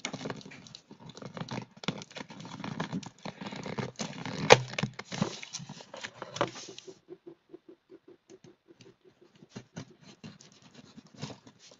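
A delivered package of health and wellness products is opened up close, with crinkly scratching, rustling and tearing for several seconds, then softer intermittent handling taps.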